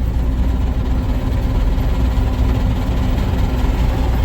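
A combine harvester engine runs steadily during the start of corn harvest with a free corn head fitted, a loud, low, constant rumble with vibration and no talk.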